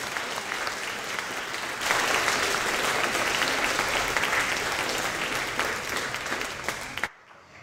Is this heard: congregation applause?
yes